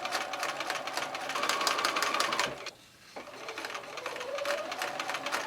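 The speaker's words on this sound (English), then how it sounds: "I'll continue sewing these sections together" Close, busy whir and rapid stitching clatter of a sewing machine chain-piecing quilt triangle sections for a Shoo Fly block, pausing briefly midway before running on steadily.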